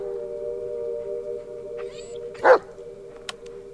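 A dog in the Blair Witch video game gives a single short bark over a steady humming game soundtrack, with a faint tick shortly after.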